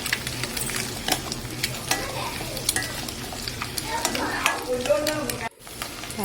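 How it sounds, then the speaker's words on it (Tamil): Capsicum and other vegetables sauté in hot oil with a steady sizzle, while a spoon stirs and scrapes against the pan in frequent clinks. A voice talks under the sizzle. "இது கூட குடமிளகாய் எடுத்து அதையும் நல்லா வதக்கிக்கலாம்"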